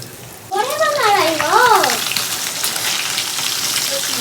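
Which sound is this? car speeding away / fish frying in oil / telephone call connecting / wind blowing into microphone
fish frying in oil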